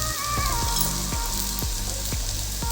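Dried shrimp (sukat) sizzling loudly in a pan of fried onion and crushed green chilli, a steady hiss with several sharp taps of a spoon stirring at regular intervals.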